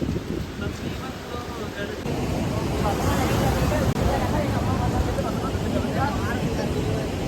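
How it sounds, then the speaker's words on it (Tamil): Sea on the coast near Kanyakumari: a broad, loud wash of surf mixed with heavy wind buffeting, continuous throughout, while voices talk over it. "கடல்லாம் இருக்கு."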